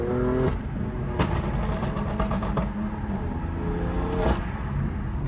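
A BMW M2 fitted with an M4 engine accelerates hard on the road, its engine note loud and continuous with several sharp shifts in pitch as it climbs through the revs, with no talking.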